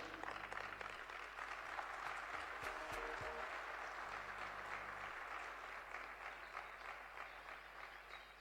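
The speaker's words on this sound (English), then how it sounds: "Another round of applause for such inspirational, powerful words, transformative words, and wisdom." A youth conference audience gives faint, steady applause that continues evenly under a low background hum, with no talking over it.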